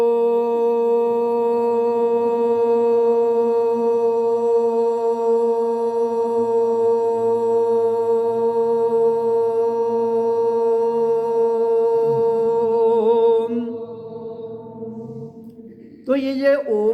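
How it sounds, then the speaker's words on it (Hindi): A single voice holds a long, steady Om chant in meditation, sustained and resonant for about thirteen seconds before fading, then a brief new sound begins at the end. "तो ये ओम नाम की ध्वनि है"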